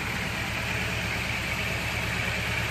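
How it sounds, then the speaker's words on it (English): A Toyota AE86's 4A-GE engine idles steadily, a close, even rumble holding a constant note throughout with no voices. "let's see if I can get my idle a little bit lower. It should be closer to around 800."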